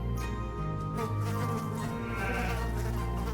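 A goat bleats while being milked in Shenmue 3, a wavering, drawn-out cry heard up close and fairly quiet over a soft background.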